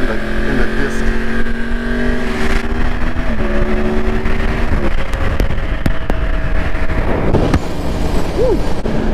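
Motorcycle with a freshly fitted rear tire riding toward a racetrack on a trackday, a steady engine drone with gear-change shifts, loud and close throughout with wind noise and no talking.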